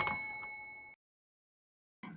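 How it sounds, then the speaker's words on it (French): A single bright notification bell ding rings out clearly and decays over about a second, followed by silence and then a brief faint rustle. "Activez la cloche de notification pour recevoir toutes les nouveautés"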